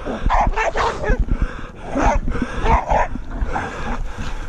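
Several dogs bark and yelp excitedly nearby, overlapping and irregular, against rustling and scuffling, with no clear speech.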